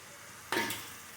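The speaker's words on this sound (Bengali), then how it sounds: "এবার আমি এর মধ্যে ভাজা আলুগুলো দিয়ে দেবো।" Fried potatoes drop into a pan of chicken masala being cooked down, setting off a sudden burst of loud sizzling and frying that fades after a moment.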